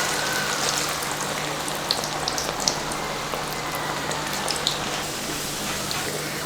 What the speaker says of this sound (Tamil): பக்கோடா பொரிச்சு எடுத்துக்கலாம்